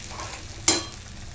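Spice paste of ginger, garlic and coriander with cumin, mustard seeds and a pinch of asafoetida sautéed in oil for a Bhogi vegetable dish: a low, quiet background followed by a single brief, sharp sizzle burst that quickly fades.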